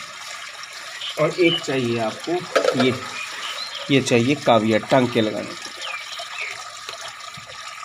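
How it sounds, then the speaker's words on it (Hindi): Water pours into a pond-like container for a science demonstration, a faint continuous rushing hiss running in the background beneath a person talking. "पीछे आपको आवाज़ आ रही होगी, हम पानी भर रहे हैं उसमें।"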